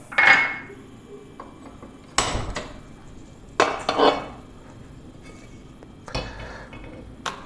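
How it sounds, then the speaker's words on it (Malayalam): A heavy uruli, a traditional cooking vessel, set on a stove gives several loud metallic clanks and scrapes, one at the start, one in the middle, a double knock, then one more, with quiet stretches between. "അപ്പോൾ ഞാൻ വീണ്ടും ഒരു ഉരുളി അടുപ്പത്തേക്ക് വെക്കുകയാണ്"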